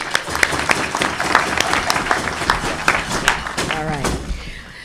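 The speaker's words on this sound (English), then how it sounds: "You deserve a round of applause." A Rotary Club of Tucson meeting room fills with a round of applause for strategic plan workers, many hands clapping fairly close, with voices and chatter mixed in throughout.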